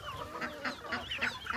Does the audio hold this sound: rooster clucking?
yes